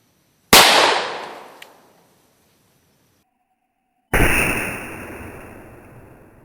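Two sharp, loud reports from a Smith and Wesson Model 29 revolver fired at an ice target gone to slush, each a sudden crack with a ringing tail that fades, spaced a few seconds apart outdoors.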